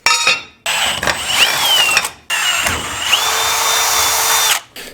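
A power tool tightens a bolt on a custom bash bar for a 240sx, whirring loud and close in two long bursts with brief pauses and pitch shifts as it works.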